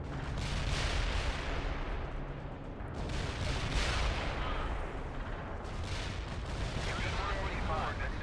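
Tank cannon fire in the World in Conflict war game, with heavy booming blasts that roll into a continuous low battlefield rumble, loud and close throughout.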